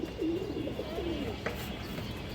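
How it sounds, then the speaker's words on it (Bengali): Pigeons coo in a pen of fancy breeds, soft rolling calls sitting low and fairly faint over a steady background hum, with a brief sharper chirp partway through and no speech. "টাকা লাল গিয়ারের একজোড়া মনাজা কবুতর আছে মাশাআল্লাহ।"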